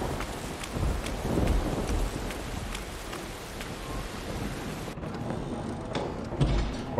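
Heavy rain pours in the video game No One Lives Under the Lighthouse, a dense constant hiss of downpour with occasional low rumbles, shifting abruptly in tone partway through as the scene changes.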